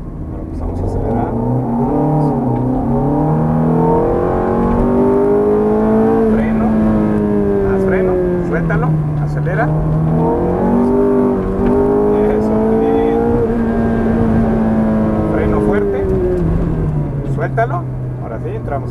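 Ferrari F430 on a driving course near Cancun, Riviera Maya, engine droning loudly from inside the car with pitch rising and falling through gear changes as it accelerates, steady and continuous under occasional talk.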